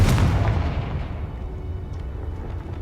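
A Confringo fire spell from the Hogwarts Legacy video game explodes in a single loud, close boom that rumbles and fades out over a couple of seconds, with no voices.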